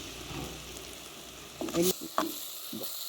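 Fenugreek seeds hit hot oil with onion and garlic in a clay pot, a steady sizzle broken by a few sharp stirring scrapes and bursts of louder frying.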